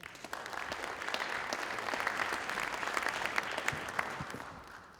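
An audience breaks into sustained applause to open a formal session, a dense, even patter of many hands clapping at moderate distance, swelling slightly then easing off.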